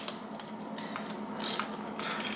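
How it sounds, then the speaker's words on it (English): A ratchet wrench tightens the bottom bracket on a vintage bicycle, giving a quick series of small clicking pawl ticks in short bursts. It is close but fairly quiet, with no voices. "Then tighten it with the ratchet wrench."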